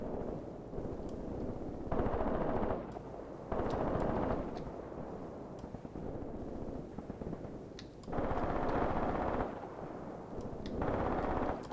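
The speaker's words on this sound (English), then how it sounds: "Machine guns are supporting quite well." Machine guns and artillery firing in a Graviteam Tactics battle at a contested bridgehead, heard as dense rumbling gunfire that swells in loud bursts every couple of seconds over a steady battlefield din, with no voices.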